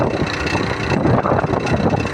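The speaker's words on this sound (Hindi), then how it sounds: "ये भी बाइक शुरू हो गई" A motorbike engine runs steadily on a climbing road during a family trip near Behriya town, a loud, continuous mid-pitched drone with constant rumble throughout, with no talking over it.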